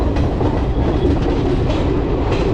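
The Haldibari Kolkata Superfast Intercity Express rolls along with a dense, continuous low rumble of wheels on rails, heard from on board, with faint rhythmic clatter and no talk.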